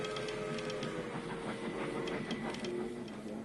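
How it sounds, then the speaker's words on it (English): A train arriving at Port Moody Station clatters along with rhythmic clicking and a mechanical rumble, faint and steady over a few seconds. "Listen for the train arriving at Port Moody Station."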